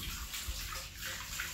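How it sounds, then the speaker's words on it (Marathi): Tap water runs steadily as soapy hands are rinsed under it, a soft continuous gush and splash at fairly low level with no speech. "हात चांगले धुवा कारण साबणीचे हात आहे."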